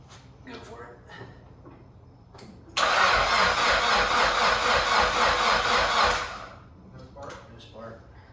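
A freshly rebuilt Nissan Pulsar GTI-R engine cranks on its first start attempt: about three and a half seconds of loud, steady starter whirring that never catches, framed by quiet garage ambience and people talking before and after.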